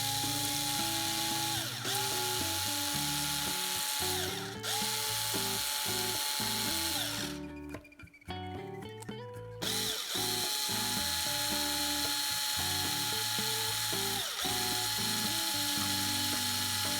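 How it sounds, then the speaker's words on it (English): An electric screwdriver spins a needle while its metal part is rounded with sandpaper during a Hot Wheels model wheel repair, giving a loud, steady whirring drone with pitch shifts. The drone cuts out briefly near the middle and then resumes. "insert the needle into electric screwdriver and round the metal part with sandpaper"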